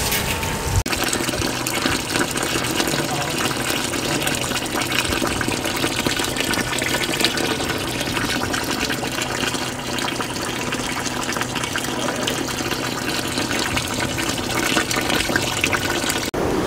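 Water gushes steadily into a pot for beef pulao for a long stretch, a constant loud splashing pour with no talking.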